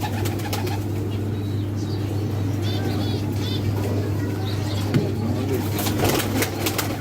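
Pigeons, including a prized female, coo softly with occasional wing flaps and chirps over a steady low background hum, at moderate distance.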